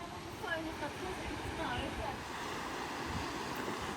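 Ocean waves wash steadily onto a shore in the Philippines, with wind mixed in. The roar is continuous and fairly faint, with no distinct breaks.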